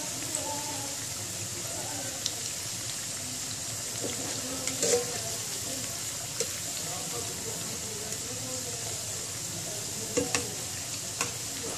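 Pakoras sizzling steadily as they fry in hot oil, with occasional stirring and scraping clicks as the pieces are turned over, moderately close and continuous.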